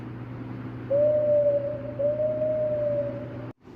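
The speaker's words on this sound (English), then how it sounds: "Whenever that owl hoots, Duncan, the mist rolls in." Owl hooting in a Thomas and Friends episode, two long, smooth, steady hoots in close succession, clear and prominent over a low, quiet background hum.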